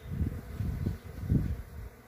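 Honeybees loaded with pollen buzz as they arrive at the hive, a close, low droning hum that swells and fades in irregular pulses.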